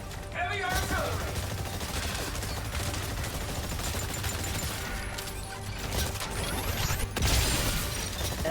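Heavy artillery and gunfire in Exoprimal, a dense continuous barrage of shots, crashes and mechanical clatter, loud and chaotic, with game voice announcements mixed in.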